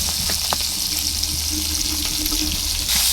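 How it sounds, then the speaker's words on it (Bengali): Fish frying in a pan on a home stove, with mashla spices, giving a steady broadband sizzle from start to end and a few faint clinks and knocks underneath. "মাছটাকে চুলায় দিয়ে দিল, মাছটা ভাজা কমপ্লিট হইতেছে"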